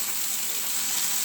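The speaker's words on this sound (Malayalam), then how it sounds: "ഇനി നമുക്ക് കുറച്ച് ഗാർലിക്. ഒന്ന് ഇളക്കി കൊടുക്കുന്നു." Garlic sizzles steadily in a hot pan as it is stirred, a loud, continuous frying hiss heard alone throughout.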